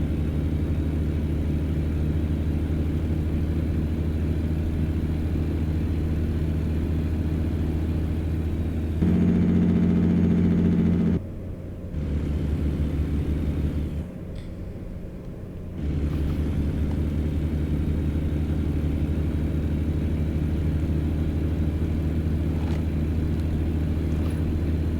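A heavy truck engine drones steadily in American Truck Simulator, loud and continuous, with the engine brakes cutting in for a few seconds as a harsher, deeper rumble before the drone resumes; no one talks.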